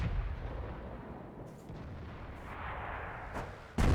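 An artillery gun fires in the World of Tanks video game, a deep booming shot that rumbles and fades, followed by a sharp burst at the very end.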